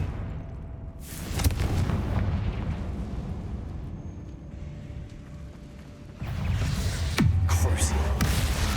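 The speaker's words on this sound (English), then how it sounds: "The blasting curse is much weaker than the blasting charm." Blasting curse Confringo going off in the video game Hogwarts Legacy, a booming explosion burst around 1.3 s and another at 7.2 s, layered over a steady game ambience and music bed.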